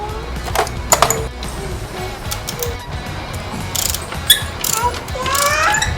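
Ratchet wrench clicking while loosening nuts and bolts on a BMW S1000RR motorcycle, with short bursts of ratcheting clicks among faint workshop noise and low background voices.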